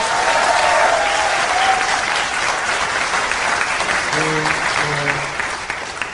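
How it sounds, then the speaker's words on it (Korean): Audience applause sweeps through a hall at a Democratic Party national convention eve rally, dense and loud for most of the stretch, with a few steady tones near the end as the clapping tapers off. "박수 안 쳐요?"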